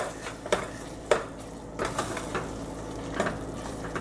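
Tamarind is stirred into fried onions in a pan for onion pulao, with a spoon scraping and tapping the pan in a few sharp knocks over a low, steady sizzle, close and alone.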